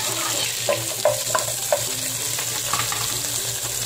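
Carrots and onions stir-frying in a hot pan for a sizzling fish dish, a steady sizzle broken by several sharp spatula scrapes and clinks, close and loud with no talking.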